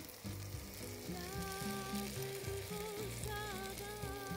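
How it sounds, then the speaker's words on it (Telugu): Chicken pieces, browned all over, fry in a pan for a chilli chicken dish, giving a steady, dense sizzle throughout with light stirring clatter and some faint tonal background sounds. "చూడండి మంచిగా బ్రౌన్ కలర్ వచ్చాయి, ప్రతి ముక్క ఫ్రై అయింది"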